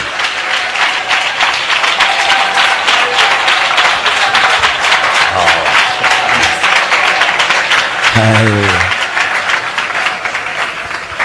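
Church congregation clapping loudly and steadily through a pastor's sermon, a dense unbroken wash of applause with a voice briefly heard over it.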